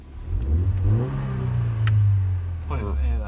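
A car engine revs with a low, rising drone that swells and holds, while people talk loudly over it at close range.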